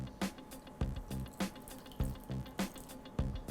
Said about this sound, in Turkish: Çok az da su.